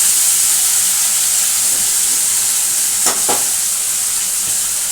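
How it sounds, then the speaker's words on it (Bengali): Fish paste for chital machh muitha, freshly loosened with bowl-rinsing water, is stirred in a pan under a steady steamy hiss, with a couple of brief scraping strokes near the end and no talk. "এবার এটাকে একটু ভালো করে নাড়াঘাটা করব।"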